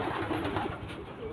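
Close, soft pigeon cooing in a short low throaty burst, faint and alone without talk.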